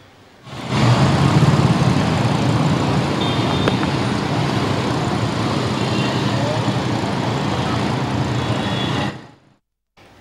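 Road traffic in Hyderabad during heavy rain, a steady broadband wash of vehicles moving through wet streets with a constant, fairly loud hiss and rumble that holds evenly for most of the clip before cutting off near the end.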